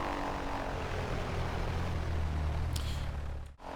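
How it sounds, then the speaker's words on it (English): A Cessna Skyhawk taxiing in the X-Plane 11 flight simulator gives a steady, loud propeller-engine drone with a low hum that holds throughout, dipping briefly near the end. "that is a very noisy aircraft"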